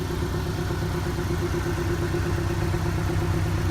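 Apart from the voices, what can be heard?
Porsche 718 Boxster S engine and exhaust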